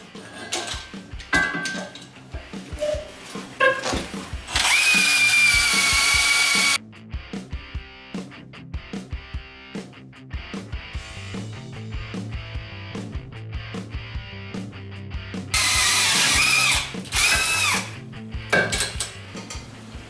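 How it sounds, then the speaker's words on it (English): Repeated bursts of high-pitched drilling through 1/4 inch thick steel, each run grinding for a couple of seconds, broken up by clanks and rattling handling sounds between holes. "Let's do a speed test to see how long it takes to drill 10 holes through 1/4 inch thick steel."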